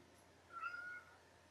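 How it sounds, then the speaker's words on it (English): A cat meows once, a single drawn-out, fairly faint call heard indoors amid a quiet background, with no one talking. "Where you at, kitty? I hear you."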